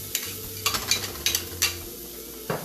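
Chopped onion stirred in a hot pan while sautéing for curry coconut chickpeas, a soft sizzle punctuated by several scraping stirs in an irregular rhythm, close by and quiet, with no talking.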